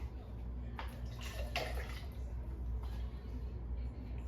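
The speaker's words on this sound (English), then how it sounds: "So now what I want to do is I'll put some more water in here." Water pours into the cup of a Graco Quickshot battery paint sprayer in a few short splashing bursts, close by, over a steady low hum.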